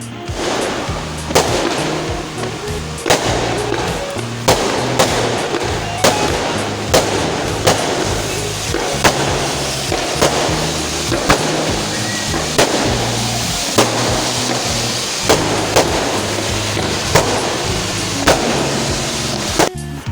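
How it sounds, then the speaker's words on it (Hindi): Rapid bursts of firecrackers popping and cracking nearly nonstop, loud and continuous with sharp repeated bangs. "ये पटाखों के शोर से उठ गए"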